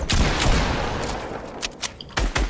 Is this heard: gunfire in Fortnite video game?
yes